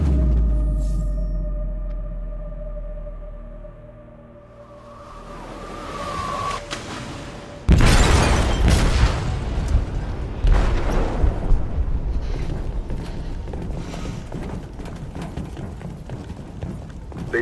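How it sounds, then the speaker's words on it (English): An explosive detonates in a ship's hold in Detroit: Become Human, a sudden loud broadband boom after quieter ambience, followed by sustained heavy rumbling and crashing debris that continues for the rest of the stretch. "They detonated an explosive in the hold."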